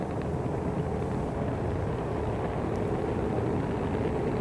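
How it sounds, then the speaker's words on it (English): An Antares rocket roars at liftoff carrying a Cygnus cargo craft toward the ISS, heard as a dense, steady, distant rumble like heavy wind, unbroken across the whole stretch. "And we have liftoff of Antares."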